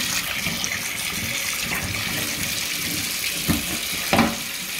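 Water runs steadily from a tap over a dirty Nespresso Vertuo Plus part. It makes a continuous close splashing hiss with a few brief louder splashes near the end, and no talking.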